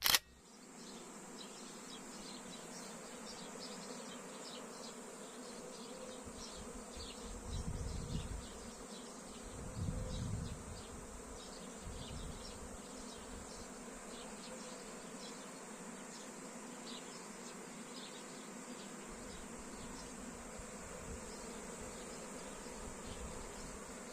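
A honeybee swarm drones continuously at close range during swarm removal by a beekeeper, a dense steady buzz with occasional low thumps and handling bumps.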